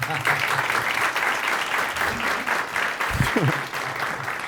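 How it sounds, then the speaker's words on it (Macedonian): A studio audience at a Macedonian talk show breaks into sustained, dense clapping that fills the whole stretch, with a voice briefly audible over it. "Аплауз за Димитар Апасиев."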